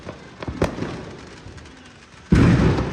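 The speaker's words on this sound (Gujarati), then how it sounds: "પછી ખબર પડી કે મસ્ત સારી રોકેટ છે." Diwali rocket fireworks go off in a series of sharp cracks and pops early on, then a loud crackling burst erupts near the end and rolls on steadily, close and without speech.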